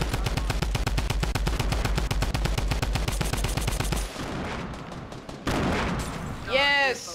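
Rapid automatic gunfire in Fortnite, a fast, evenly spaced burst of loud shots for about four seconds that then cuts off, followed by other brief game noises.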